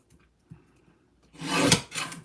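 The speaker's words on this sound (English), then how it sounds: "we're gonna just trim those sides off" Paper edges being trimmed for a papercraft card kit, a faint tap and light rustle followed by a loud, close, rasping cut lasting about a second, then a shorter second stroke.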